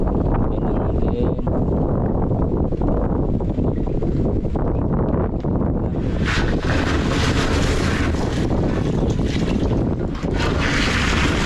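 A water pump engine runs steadily in a farm field, a continuous loud mechanical drone with wind buffeting the microphone, growing brighter and harsher partway through.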